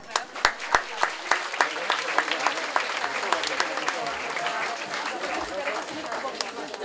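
Audience applause at a summer celebration of a children's nursery, opening with sharp distinct claps that quickly merge into steady, warm crowd clapping with murmuring voices underneath.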